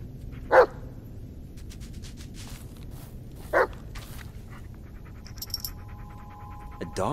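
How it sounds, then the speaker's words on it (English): In a Blair Witch horror game, a dog sniffs and pants close by, with two brief loud sniffing bursts over a low ambient rumble and faint tonal game sounds near the end. "Take a good long whiff, Bullet. It's important."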